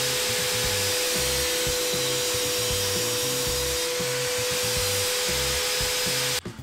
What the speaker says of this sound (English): I'm going to use my table saw with the sled to do that